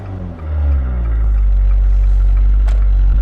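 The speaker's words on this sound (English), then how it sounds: "as I lift the clutch, did you hear the engine noise dies?" Car engine idling with a steady low rumble as a learner driver lifts the clutch on a hill, the note holding loud and close with a slight dip and recovery, no talk.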